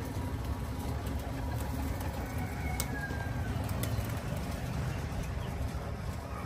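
Pigeons coo close by in a low, repeated murmuring over outdoor background noise, joined by a few sharp clicks and brief wing-flutter sounds, with no voices.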